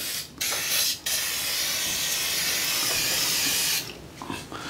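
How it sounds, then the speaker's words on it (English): Water from a hose sprays onto a brake cylinder in a steady, broad hiss lasting a few seconds, with brief pauses at the start and a sputtering tail at the end. "I'm just gonna hose it down one more time, because now I can get to the back of it"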